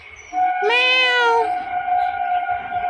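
A cat meows once, a drawn-out harmonic cry lasting about a second, close and clear over a steady background hum.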